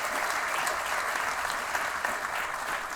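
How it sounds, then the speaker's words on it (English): Steady, dense applause from an awards ceremony audience fills the hall for the whole stretch, even and sustained without breaks. "So how about a big round of applause for Jack as we have him come up on stage."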